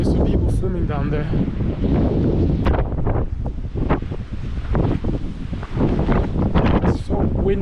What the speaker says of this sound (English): It's so windy and dusty up here.